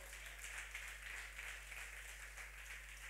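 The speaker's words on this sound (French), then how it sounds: "On acclame les enfants encore très fort" A church congregation applauds children during a service, a steady wash of many hands clapping together, moderately loud and continuous throughout with no voices standing out.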